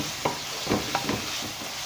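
Onion and tomato masala with meat sizzles steadily in a pan, a continuous frying hiss broken by a few soft stirring scrapes at regular intervals.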